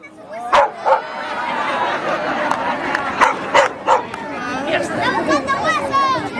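A dog barks several times in short, sharp bursts amid lively chatter, with close-up yips and whimper-like sounds mixed among the voices.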